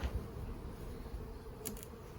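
Honey bees hum around an urban backyard hive in a soft, continuous buzz, fairly faint and even, with a couple of brief higher whirs as bees pass close by.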